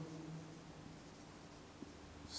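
Chalk or marker writes math on a board in a classroom, faint scratchy strokes in a quiet room, soft and continuous with occasional taps.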